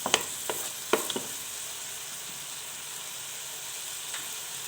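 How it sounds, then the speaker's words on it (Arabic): Vegetables sautéing for paella in a pan, a soft steady sizzle with a few sharp stirring scrapes and clinks early on, then quieter frying hiss, close and fairly faint. "ملي كتشحر ليا هذا الخضر مزيان"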